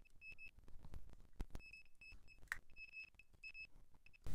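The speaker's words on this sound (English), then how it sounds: "I'm going to put my meter in continuity." A multimeter set to continuity mode on a Nintendo Switch Lite circuit board gives short, high electronic beeps in irregular bursts, some quick and some held, against quiet clicks and handling noise.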